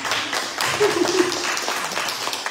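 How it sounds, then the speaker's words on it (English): Audience applause at a Sunday church service, a dense, close burst of many hands clapping continuously, with a brief sung or hummed tone in the middle. "Give him another applause."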